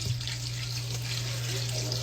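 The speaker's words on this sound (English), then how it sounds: "Just fill them up with some tap water" Tap water runs steadily from a faucet into canning jars for green beans and potatoes, a continuous close splashing stream with a constant low hum beneath it.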